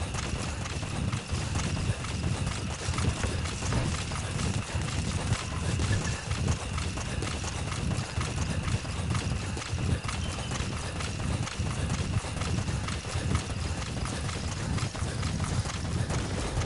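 Horse hooves clip-clop at a quick, rhythmic gallop through a long stretch of Metal Gear Solid V gameplay, steady and moderately close over a soft background wash, with no talking.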